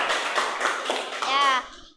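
Classroom students clapping after presentations, a short burst of uneven clapping and taps with children's voices mixed in, ending with a teacher-like voice briefly speaking before it fades.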